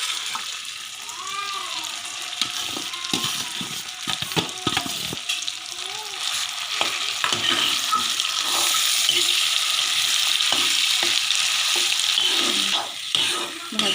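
Mashed elephant foot yam fries with browned onions in a pan, giving a steady sizzle that swells louder over time, with scattered clicks and scrapes of stirring and a faint watery hiss beneath.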